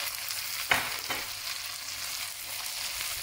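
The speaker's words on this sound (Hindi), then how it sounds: "और मैं इसे अच्छा सा फ्राई कर लूँगी" Chicken with beans and red, yellow and green capsicum frying in a pan for chowmein, a steady close sizzle with a sharp utensil scrape near the start and a softer one after.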